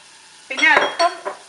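Chicken thoran being stirred in a pan with turmeric, chili powder and salt, giving a few short scraping, clinking spoon strokes over a low sizzle, close and moderately loud.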